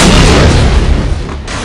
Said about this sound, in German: warum explodieren da Autos?